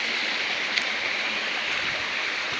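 Steady rushing of a river flowing beneath dense overgrowth, a continuous broad hiss of water with no breaks.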